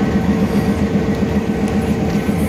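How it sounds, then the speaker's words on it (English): A new train running from Aba to Port Harcourt, Nigeria, rumbles along with a steady low drone and a regular rhythmic clatter of wheels, loud and close, no talking. "we are about to see the train moving"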